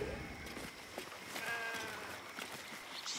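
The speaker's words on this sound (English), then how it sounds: "Wheezing, the sheep backs away." A sheep in the video game Baldur's Gate 3 gives a thin, wavering bleat over a busy game soundscape, the call stretching for a second or two without speech over it.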